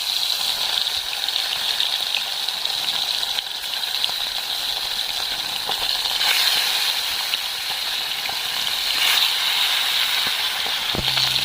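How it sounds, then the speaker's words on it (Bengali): A steady, loud sizzle of rohu fish frying in hot oil, a dense hiss with a few brief pops, continuous throughout with no voices. "এই বেরেস্তা ভাজা তেলে আমি মাছগুলো ভেজে নেব"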